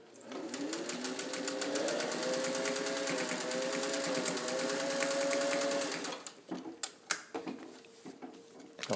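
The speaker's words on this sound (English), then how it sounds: "I want you to see the way the machine, goes right through this seam" A sewing machine stitches steadily through a thick seam for about six seconds, a loud continuous mechanical whir with a rising pitch, then stops and leaves scattered clicks and handling knocks.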